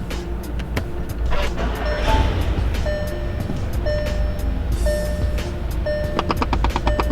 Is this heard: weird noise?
yes